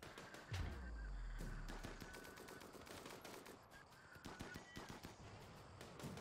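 Rapid bursts of gunfire from the colony-sim video game Rimworld, a dense crackle of automatic shots that starts loud and keeps going steadily under a busy game soundscape, with no talking.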